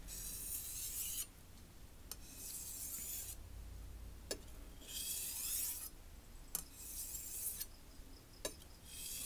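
A Wusthof Santoku knife blade stroked across a wet Japanese whetstone: repeated faint, gritty scraping passes, each a second or two long, separated by brief clicks as the blade is lifted and repositioned.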